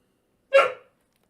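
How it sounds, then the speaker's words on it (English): A dog named Blondie gives a single short, close bark, asking to be let outside, in an otherwise silent room. "That's my dog asking to go out."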